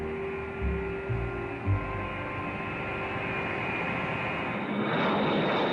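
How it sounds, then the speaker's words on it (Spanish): Engines of B-52 bombers loaded with hydrogen bombs, heard as a steady, fairly loud low drone and hum that holds throughout and swells slightly near the end, with no voices. "Un gran número de aviones B-52 cargados con bombas de hidrógeno estaban listos para una guerra."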